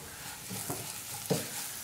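Pepper, coriander and chili powders are stirred in hot oil in a pan for a cauliflower potato curry. The result is a faint, soft sizzle with a few light scraping strokes and no speech.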